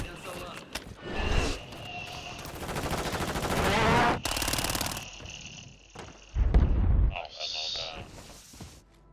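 Video game gunfire rattles in fast automatic bursts and single cracks, loud and near, mixed with an excited player talking over it and some high electronic tones.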